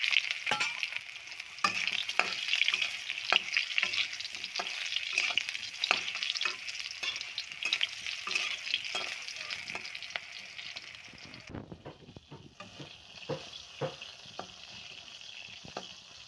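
Pointed gourd (potol) sizzling and spitting in hot oil with black cumin, a steady close-up frying hiss broken by stirring clicks, with a slightly duller patch of sizzle near the end.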